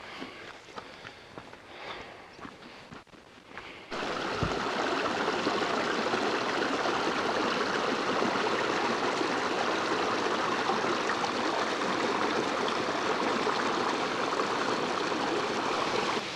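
After a few quiet seconds, a steady broadband rush of falling water swells in and continues loud and constant, like a nearby waterfall feeding a stream, near Crackpot Hall, Keld, in the North Yorkshire Dales.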